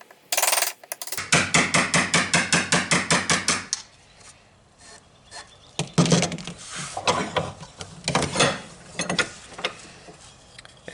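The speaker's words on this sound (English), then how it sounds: "these are very heavy duty chisels, and I think I can get away with using a hammer" A hammer strikes a heavy-duty bench chisel in a fast run of about a dozen even, ringing metallic blows while chopping off a wood corner, followed by slower, irregular taps and knocks.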